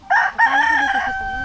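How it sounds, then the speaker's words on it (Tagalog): A rooster crows loudly and close in a short burst among chickens, a drawn-out piercing call that trails off near its end. "Uy, ang ganda ng mga manok. Kaganda ng mga manok."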